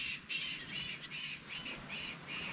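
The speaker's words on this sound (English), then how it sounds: "That's the sound of the caracara, a predatory bird that sort of resembles a hawk." Caracara, a hawk-like predatory bird, squawking in a rapid run of about six harsh, raspy calls, loud and close, over steady outdoor background noise.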